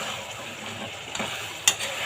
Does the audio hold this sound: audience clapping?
no